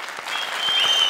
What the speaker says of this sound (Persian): یک تشویق داشته باشیم ببینیم آمادگیتون